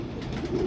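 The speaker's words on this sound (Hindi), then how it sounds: "यदि दोस्तों कबूतर पकड़ा है, चेक करें ज़रा कबूतर को" A young pigeon held in the hand gives a short, low coo, close and soft, against faint background noise.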